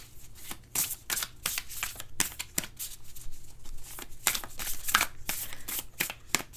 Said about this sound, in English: So we're going to pull from a chakra oracle card deck.